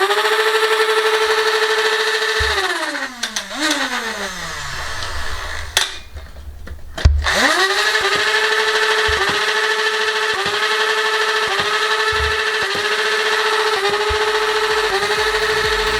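An Auto Tommy 20 toy dart gun fires a long automatic burst of darts, its motor whining loudly and steadily with rapid repeated clicks and brief pauses between bursts, close and alone.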